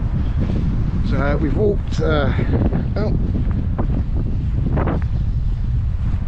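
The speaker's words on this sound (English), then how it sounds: "it certainly is wet out here, and windy, and very windy." Strong gusty wind buffets the microphone on a wet forest walk, a heavy low roar that runs throughout while someone speaks briefly over it.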